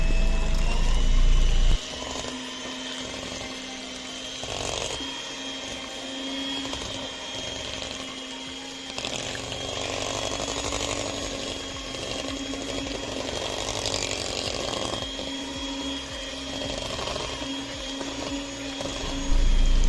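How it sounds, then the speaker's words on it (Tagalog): An electric mixer whirs steadily while beating cream cheese and yogurt in a bowl, a continuous mechanical hum with slight shifts in pitch and load, close and alone with no talking. "So, 2 cream cheese yung nasa box at 2 yogurt. So, mix lang natin until mawala yung mga lumps."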